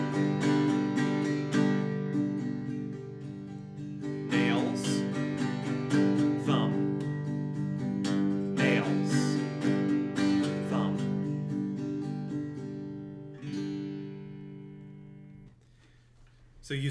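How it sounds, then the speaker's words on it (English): A guitar is strummed without a pick, alternating the soft skin of the thumb with fingernails, in a steady run of close chord strums that thins out and fades near the end. "So using just the thumb and just the skin on your thumb creates a softer and more delicate kind of sound."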